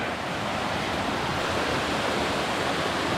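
Creek water flows steadily on a hiking trail in Shenandoah National Park, a continuous broadband rush at moderate level with no breaks and no voices.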